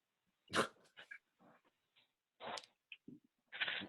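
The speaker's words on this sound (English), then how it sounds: "Link was barking again like an asshole." A dog barks in short, sharp bursts, several separate yaps spaced irregularly, fairly close.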